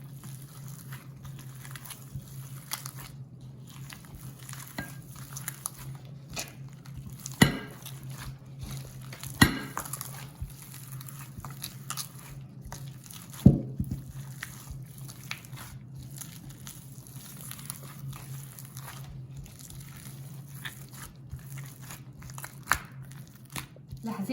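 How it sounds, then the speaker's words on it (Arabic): Dates are kneaded by hand with a little oil for a ma'amoul filling, giving soft squishing and sticky crinkling with a few sharper pats, close and quiet over a steady hum. "واعجن التمر"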